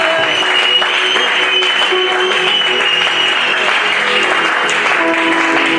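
A church congregation applauding to acclaim the Lord at a youth seminar, steady dense clapping from many hands, loud and continuous with no pauses.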